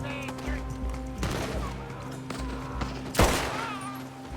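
Rifle fire with high-velocity bullets in Red Dead Redemption 2 cracks out in a few scattered shots amid game ambience, ending in one louder, sharper close report.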